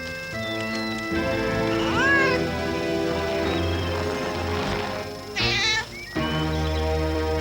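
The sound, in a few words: cat meowing in a cartoon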